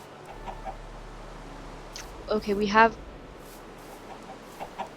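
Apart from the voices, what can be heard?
chickens clucking in the video game Minecraft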